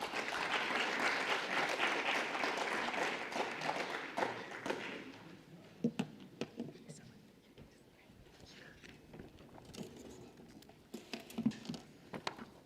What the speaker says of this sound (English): Please welcome our co-chairs to the stage with a warm round of